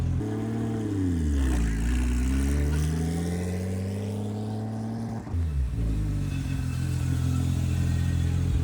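Porsche 911 Turbo engine droning steadily up close, its pitch dipping and rising as the car pulls away during clutch testing, with a brief shift break midway.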